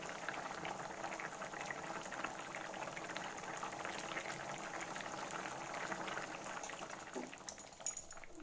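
A pot of Odia mushroom curry (chhatu besara) with potatoes boils quietly on a gas stove, giving a soft, continuous bubbling and simmering fizz throughout.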